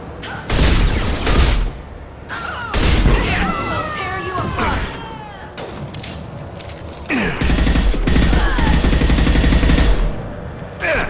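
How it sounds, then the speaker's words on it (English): Heavy gunfire from the video game Mass Effect 2 comes in loud bursts with booming impacts and clattering debris, and game voices and effects mix in between the shots. "Firing a high-impact shot."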